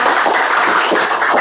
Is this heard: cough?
no